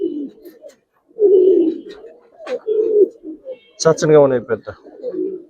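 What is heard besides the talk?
Giribaz pigeons cooing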